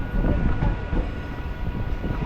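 A Tambaram to Villupuram MEMU passenger train running along the track, a loud, steady rumble with rattling carriage noise heard from on board, continuous throughout.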